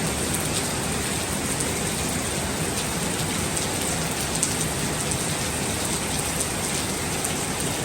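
Steady, heavy rain pours down continuously, a dense hiss of drops striking surfaces with no pauses, fairly close and loud throughout.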